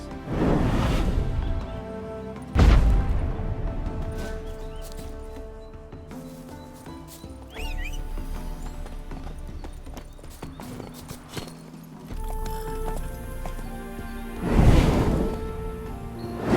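Horse hooves clip-clopping in the video game The Witcher 3: Hearts of Stone, with steady footfalls interrupted by a few loud swells, under game music and ambience.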